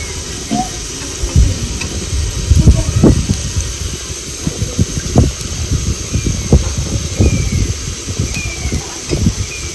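Continuous sizzling hiss as water is added to chicken frying in a hot pan, broken by irregular pops and light clattering knocks, close and fairly loud.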